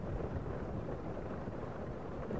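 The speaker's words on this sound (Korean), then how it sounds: "천둥이 심하게 치던 날이었다." Low rumbling thunder from a stormy, rainy night rolls steadily for a couple of seconds, a dense continuous roar with no voices over it.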